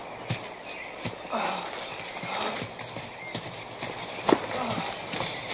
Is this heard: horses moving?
yes